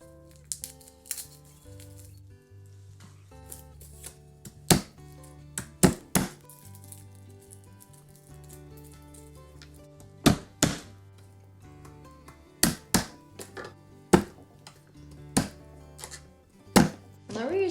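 A kitchen knife chops garlic cloves on a cutting board for a home-cooked pancit bihon, giving irregular bursts of sharp, close thunks with quiet gaps between them.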